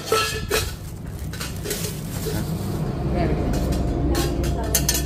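A metal deep-frying pot with a strainer basket is handled, giving light clanks and scrapes of metal close by, under steady talking in a noisy shop.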